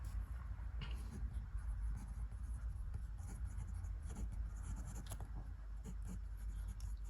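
A steel medium-nib pen writing on paper gives a soft, continuous scratching that runs steadily throughout, close to the microphone and fairly quiet.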